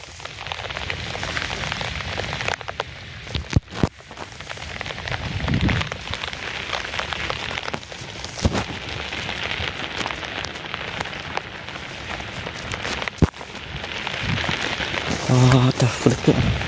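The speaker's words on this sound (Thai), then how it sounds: "แต่ฝนตกลมมาเลยป่ะ" Heavy rain pouring down with gusting wind, a dense continuous hiss of drops on surfaces, loud and steady throughout, with occasional sharper knocks and a brief voice near the end.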